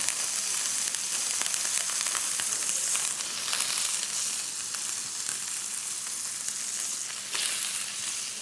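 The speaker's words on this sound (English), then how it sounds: "So we're just going to lightly fry the spaetzle." Spaetzle lightly frying in a pan gives off a steady, even sizzle with faint crackles and stirring scrapes, continuous and close, with no talking.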